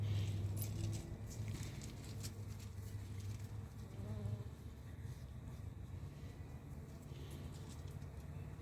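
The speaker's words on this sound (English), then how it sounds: "Resin bees come back to try and seal some more resin," Firetail resin bees buzzing close around a native Australian bee hive, a continuous low drone of wings with passing individual buzzes, fairly faint and steady, no talking.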